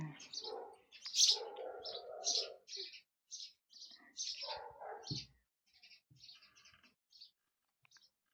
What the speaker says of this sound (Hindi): और चिड़िया भी चहचा रही है बहुत सारी